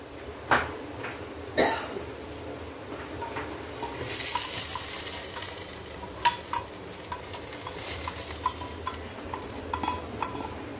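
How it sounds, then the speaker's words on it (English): Onion, tomato, green chili and curry leaf mixture stirred in a pan for a ghee pepper chicken roast, with a soft continuous sizzle, scattered scraping strokes and a few sharp knocks of the spoon against the pan. "give it a good stir"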